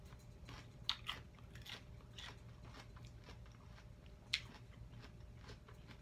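Someone biting and chewing celery up close, with crisp crunches and a couple of sharper snaps over a faint background hum.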